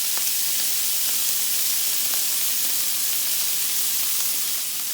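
Bacon frying in a pan until crispy, a steady bright sizzle and hiss with faint pops scattered through, close and continuous, no voices.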